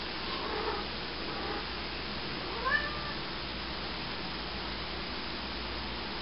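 A cat meows once, briefly and faintly, over a steady hiss of background noise.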